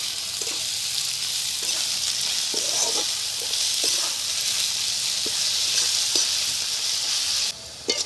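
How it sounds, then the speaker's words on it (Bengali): Sliced onions sizzle steadily in hot oil in a pan, a loud continuous hiss with occasional stirring scrapes and ticks, for the fish curry. "পেঁয়াজটা খুব সুন্দর করে ভেজে নিয়েছি"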